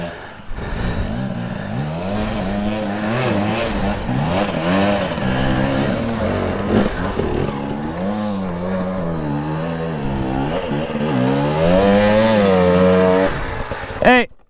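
Dirt bike engines, including a 450, rev and rise in pitch as a rider approaches on a track, loud and continuous, with riders talking over the roar.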